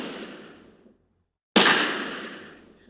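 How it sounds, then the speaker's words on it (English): Two gunshots from a sound library: the first already decaying at the start, then after a second of silence a sharp, loud crack with a long fading echo tail. "And next is about the gunshot."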